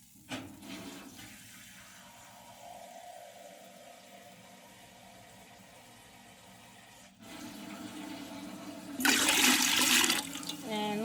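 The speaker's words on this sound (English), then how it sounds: "I'm going to get 2 cups of water." Quiet kitchen background, then water gushes loudly from a tap into a cup for a couple of seconds near the end.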